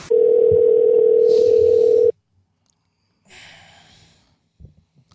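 A steady telephone dial tone hums loudly for about two seconds during an outgoing phone call, then cuts off, leaving faint breathing and small handling noises.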